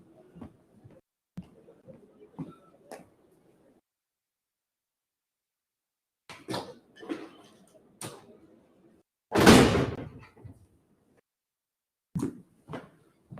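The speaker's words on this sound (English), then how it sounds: "I just close the door because it's noisy." A classroom door at a school is closed to shut out courtyard noise, giving a few scattered clicks and handle rattles before one loud, close thud, then a couple of faint knocks.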